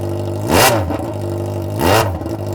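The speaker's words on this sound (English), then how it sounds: "Start it with the exhaust off" A Yamaha XJ6 motorcycle engine with its exhaust removed, idling loudly with a steady harmonic drone, then revving in two sharp bursts about a second apart, each rising and falling.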